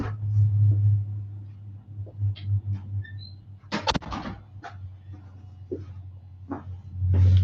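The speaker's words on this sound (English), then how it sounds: "they're running a motor over on the chassis dyno" A car engine runs on a chassis dyno in a neighbouring shop, heard as a steady low drone through a closed door, with a few sharp clatters and knocks on top and no talk.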